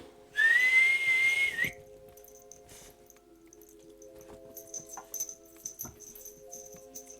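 A person tries to whistle, giving one short rising, wavering tone that breaks off, followed by quiet room sounds, faint scuffles and a dog's soft whimpers.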